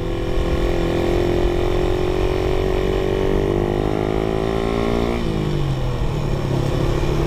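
Suzuki Raider 150 Gen 1 motorcycle with GP shift pattern riding along, its engine loud and close, pitch climbing steadily before dropping sharply at a gear change and settling lower.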